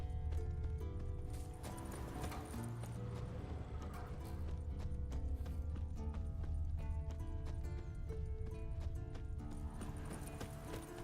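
Horse hooves clip-clopping steadily in The Witcher 3, a continuous mid-distance rhythm of hoof falls over a dense backdrop of game music and ambience.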